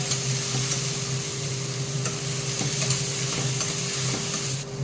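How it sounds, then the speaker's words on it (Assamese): A spatula stirs onions frying with chicken masala for a local chicken curry, a loud continuous sizzle broken by regular scrapes and taps against the pan. "আৰু এইখিনি মই ধুনীয়াকৈ লৰাই থাকিম"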